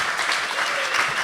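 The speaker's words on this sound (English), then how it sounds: "Let's give a round of applause for Sprite." Steady audience applause at a hackers' conference badge-hacking awards session, dense and sustained clapping from a crowd filling the room throughout.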